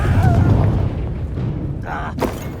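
A Confringo blasting-spell explosion in Hogwarts Legacy gameplay lands as a deep, loud boom right at the start, then rumbles away. A short burst of game noise follows near the end.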